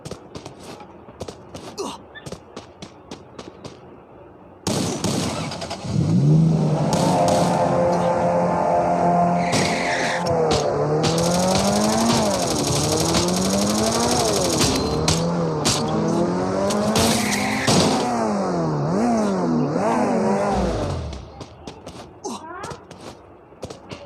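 A car in a video game drives and skids: an engine revs up and down through several gear shifts, with tire squeal and screeching, loud and close, ending abruptly, with brief clicks before and after.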